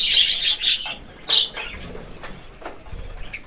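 A budgerigar flaps its wings in a few short, fluttering bursts close by, separated by brief quiet gaps, with faint chirps between.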